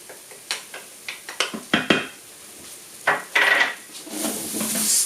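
A utensil stirs tomato paste and harissa into a braising pot for a chicken gizzard curry: a run of quick clinks and knocks against the pot, then scraping and a soft sizzle, close by with no talk.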